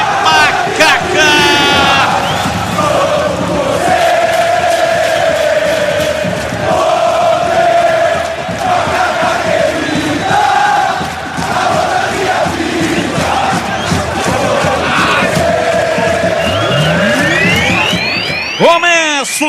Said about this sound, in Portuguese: Torcida ainda chegando no estádio Moisés Lucarelli.